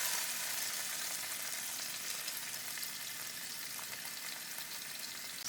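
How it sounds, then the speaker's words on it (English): Garlic and onion sizzle steadily in hot oil in a paella pan, a dense continuous frying crackle, close and even, with no voices. "Go ahead and put the garlic. Go ahead and put the onion."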